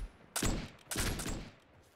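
Two sharp musket volleys crack out in Mount and Blade II: Bannerlord, each a ragged burst of many near-simultaneous shots about half a second apart, trailing into a brief rumble; fairly quiet overall.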